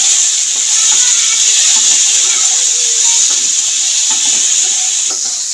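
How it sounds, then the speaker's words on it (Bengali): Cauliflower stalks and vegetables frying with salt in a pan make a loud, continuous hissing sizzle, close and steady throughout, with faint stirring underneath and no speech. "নুন দিয়ে সবজিটা ভাজা হয়েই এসছে"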